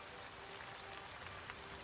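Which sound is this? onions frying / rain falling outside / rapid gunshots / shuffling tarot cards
rain falling outside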